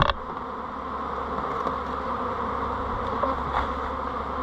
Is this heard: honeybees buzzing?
yes